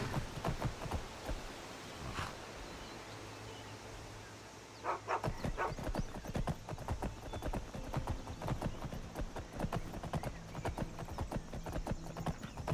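A horse gallops in the Skyrim video game, its hooves clip-clopping in a steady, fast beat over game ambience with a brief whinny. The sound is moderately close and continuous.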